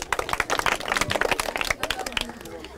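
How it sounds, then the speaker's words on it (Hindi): Studio audience clapping on an Odia television game show, a lively burst of quick, uneven hand claps over a couple of seconds that fades out, with some talk mixed in. "जोरदार ताली ही जाऊ"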